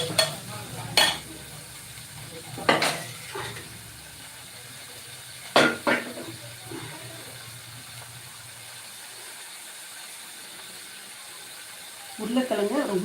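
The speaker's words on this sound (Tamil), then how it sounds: "வெங்காயத்தை தக்காளி நல்லா வதங்கணும்" Onions and tomatoes sautéing in a pan for potato kurma, with a few sharp spoon-scraping stirs over a low sizzle, then a quieter stretch before stirring resumes at the end.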